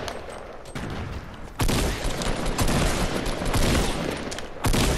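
Rapid bursts of Fortnite gunfire fill the clip, loud and sustained, with sharper volleys kicking in partway through and again near the end.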